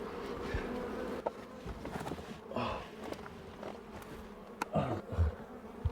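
Bees buzz in My Summer Car, a dense, close insect drone that swells and fades across the scene, with scattered footsteps and small knocks but no talking.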